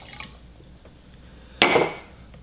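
Apple cider vinegar pours into a garlic brine for a roast pork picnic shoulder, a short, close splashing burst of liquid that swells and fades over about half a second, set apart by quiet stretches.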